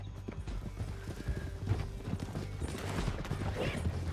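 Several horses gallop in Red Dead Redemption 2, hooves pounding in a steady, close rhythm with creaking tack and an occasional whinny throughout.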